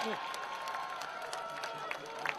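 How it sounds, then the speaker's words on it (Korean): Crowd applause and cheering ring out at an outdoor election campaign rally in Daegu, a steady broad wash of clapping with voices mixed in throughout. "여러분 다시 한번 뜨거운 박수 부탁드리겠습니다"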